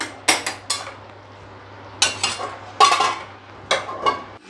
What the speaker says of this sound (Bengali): এবার ঢাকা দিয়ে দিচ্ছি আবার।